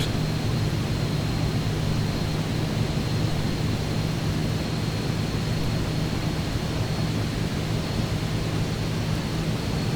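Jet aircraft engine in Flight Simulator 2024, a steady, loud, continuous roar with a deep low hum and a faint high whine, unchanging throughout with no talking.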